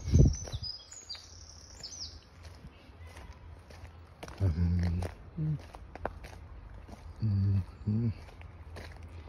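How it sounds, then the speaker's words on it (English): Birds chirp in the woods of Queens Park in Bolton, with a cluster of high, quick tweets at the start and fainter calls later, mixed with footsteps and scuffing on a path nearby. "I guess we can enjoy the chirping of different birds"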